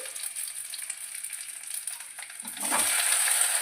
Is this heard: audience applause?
no